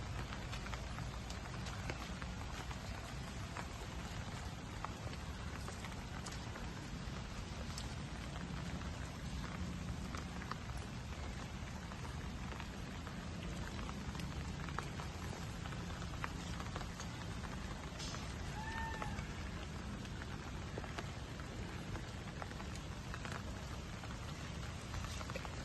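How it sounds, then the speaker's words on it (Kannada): Heavy rain pours steadily for the whole stretch in a jasmine-growing garden, a dense, even hiss of drops on surfaces with no pauses and no voices. "ಮಳೆ ಬೆಳಗ್ಗೆಯಿಂದ ಜೋರು ಬರ್ತಾ ಇದೆ"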